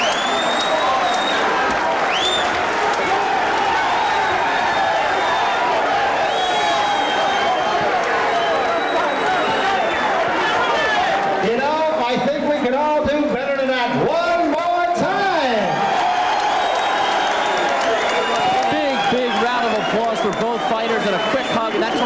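A boxing crowd applauds and cheers as an exhausted bout ends, a dense, continuous roar of clapping and shouting that stays loud throughout, with voices and commentary rising over it partway through.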